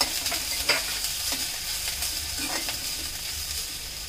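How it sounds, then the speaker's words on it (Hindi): Chopped garlic, crushed ginger and cut chili being stirred and roasted in a pan, a continuous close sizzle with several scraping spoon strokes on top, no talking. "इसको अच्छी तरह से मिक्स करके थोड़ा सा रोस्ट कर लेंगे।"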